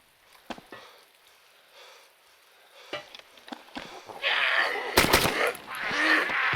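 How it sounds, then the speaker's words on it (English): Gunfire in the video game DayZ Origins: a couple of sharp shots early on, then a louder burst of several rapid broadband cracks around the middle, with scattered game noise between them. "Two shots."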